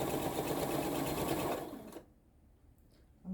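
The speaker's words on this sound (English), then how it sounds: "You can always sew with that on top if you like." A sewing machine stitches a crazy quilt block with a fast, steady mechanical whirr for about two seconds, then stops abruptly and leaves near silence.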